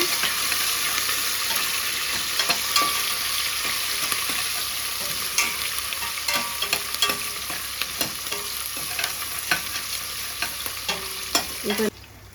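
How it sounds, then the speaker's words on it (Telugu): Onions fry loudly and steadily in a hot pan, with a dense, continuous sizzle broken by frequent stirring scrapes and clicks, close up and without talk. "ఆనియన్స్ ఫ్రై చేస్తున్నా."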